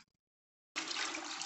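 Alcohol poured from a container into a homemade soap mixture with fat, a sudden steady rushing splash of liquid after a brief silence, close and fairly loud.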